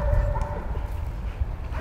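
A German police service dog barks in a few quick, close bursts during a handler demonstration, loud against a low rumbling background.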